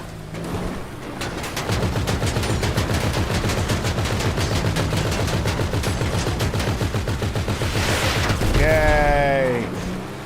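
Sustained automatic gunfire in GTA V Online's Cayo Perico heist, a fast, steady burst of shots for about eight seconds before it stops. A voice then briefly calls out.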